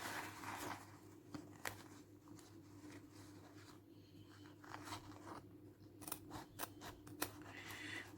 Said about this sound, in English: So I'm going to cut it to this point.